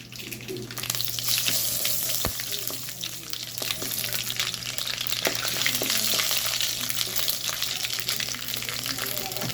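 Curry leaf rice is stirred in a pan with a steady, close frying hiss and scattered scraping strokes throughout, with no talking over it.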